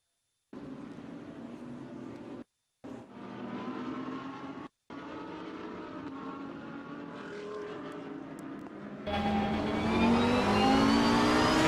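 GT race cars (Porsches, a Mercedes and an Audi) run in the Assetto Corsa Competizione racing game, their engines droning steadily and rising in pitch, then growing louder and brighter as the pack surges near the end.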